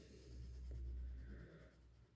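A fine liner pen scratches steadily across paper, a soft close-up scraping with no talking.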